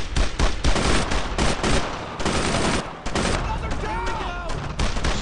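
Sustained suppressing gunfire in the World War II shooter Brothers in Arms, dense rapid bursts of rifle and machine-gun shots crackling almost without pause, close and loud, with a voice shouting briefly near the end.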